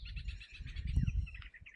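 A red-vented bulbul gives quick, close chirps and tweets while feeding its chicks at the nest, the calls coming in a steady, busy stream.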